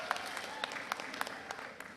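Faint, scattered applause from a conference audience of school headteachers at a Kenyan primary school headteachers' annual delegates conference, a short patter of claps heard from a distance.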